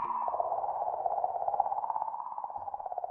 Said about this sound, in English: That is the sound of a comet.